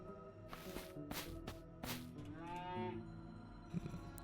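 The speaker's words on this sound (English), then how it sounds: "Moo indeed, young cow." A cow in a video game lets out a long, drawn-out moo, its low tone rising and wavering, preceded by several quick rhythmic taps and followed by a brief thump, heard clearly without any talk.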